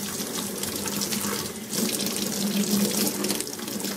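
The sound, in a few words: tap water rinsing out a GoGurt tube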